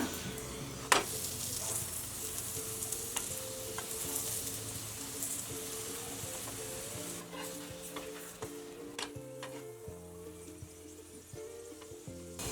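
A stuffed gobi paratha cooks on a pan over a low flame with a faint, steady sizzle, broken by scattered taps and scrapes as it is pressed and turned.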